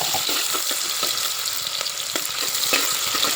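Chopped onions fry in a pan for egg biryani, producing a loud, steady sizzle with crackling spatters and occasional stirring scrapes up close.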